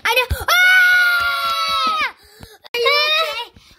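A girl lets out two loud, sustained high-pitched screams, the first long and the second shorter after a brief pause, in a dramatized nightmare scene.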